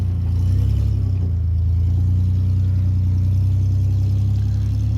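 A Toyota off-road vehicle crawls over rocks with its engine running loud and steady, a constant low drone close by that swells slightly and then holds.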